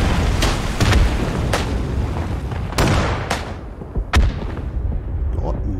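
Several booming explosions go off in a World War I battle in the game Isonzo, sharp blasts with rumbling tails spread over a few seconds amid dense battle noise.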